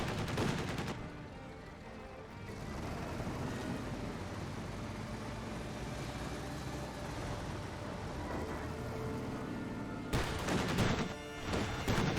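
Rapid anti-aircraft fire from an M15 halftrack in Company of Heroes 2, a sustained burst of gunfire running under the game's battle noise, with louder bursts at the start and end.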